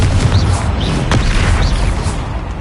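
Confringo blasting spell going off in Hogwarts Legacy, a dense booming burst with a sharp crack near the middle, layered over continuous rumbling game effects throughout.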